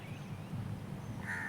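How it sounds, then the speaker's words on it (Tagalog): Birds call in a tree-filled park under a soft, steady outdoor background, with a crow-like caw rising briefly near the end. "Daming ibon dito, guys. Kasi maraming puno."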